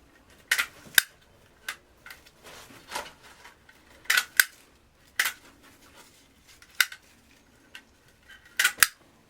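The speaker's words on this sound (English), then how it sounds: "Using a stapler, securing them." A stapler snaps repeatedly while a heart-shaped hand-tied rose bouquet is wrapped, giving sharp isolated clicks and crunches at irregular intervals with quiet rustling between, and no talking.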